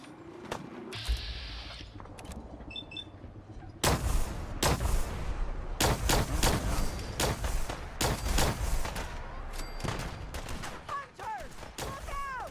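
Rapid, loud gunfire and explosive shots in the Fallout 4 Far Harbor video game, dense irregular bursts close up during a foggy fight, layered over game sound effects.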